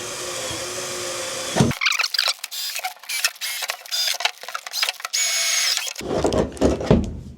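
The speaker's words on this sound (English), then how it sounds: "letting the reamer do the work. I'm not forcing it." A hand reamer works through drilled holes in a tight spot, giving rapid scraping, rattling strokes in bursts under a steady background hum, close and fairly loud with no voices.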